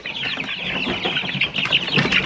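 Chickens cluck continuously at close range, with overlapping chatter from several birds and occasional louder calls.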